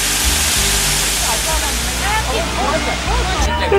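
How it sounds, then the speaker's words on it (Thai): Steady rushing roar of a cascading waterfall falling over rocks in a park in Guilin, China, loud and continuous, with a low rumble and faint chatter of voices in the background. "สวนเจ็ดดาวมีน้ำตกลดหลั่นกันลงมานะฮะมีเสียงซูซ่าดี"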